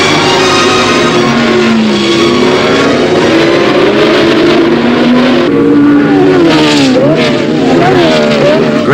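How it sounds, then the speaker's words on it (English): Racing cars at the Silverstone International Trophy race, with Graham Hill's BRM and a Surtees Ferrari among them, engines wailing loud and close as they pass, pitch sliding and rising through gear changes, sustained and unbroken. "It's the international trophy race at Silverstone."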